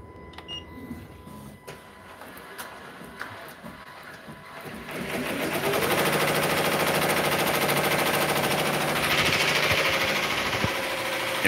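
A commercial embroidery machine running at 850 stitches a minute on a hoodie, starting up partway through and then holding a loud, steady, rapid mechanical chatter up close, with no voices.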